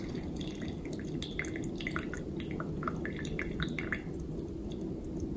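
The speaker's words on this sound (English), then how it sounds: "if it's not perfectly level, it tends to drip and leak" A pour-over coffee dripper tilted off level drips and leaks, giving scattered small droplet ticks over a steady low background hiss, fairly close and faint.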